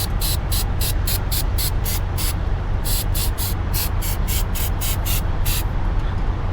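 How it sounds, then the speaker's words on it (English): Repeated short hissing bursts of a grease spray can in quick rhythmic pulses over a constant low background rumble, two groups separated by a short pause. "I'm gonna take some of this grease and spray it on there"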